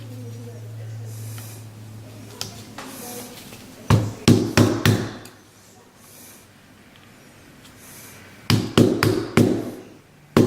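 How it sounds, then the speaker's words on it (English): Hammer strikes driving the pins out of an Anderson Manufacturing AR lower receiver, heard as a quick cluster of four or five sharp metallic taps, a pause, then another burst of taps, close and loud over a low hum. "Looks like I need to use a little bit of hammer."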